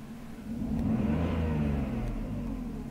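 A BMW M54 inline-six, just fitted with a new camshaft position sensor, revs up in a single smooth rise and holds a steady mid-range drone, close and clear with no voices.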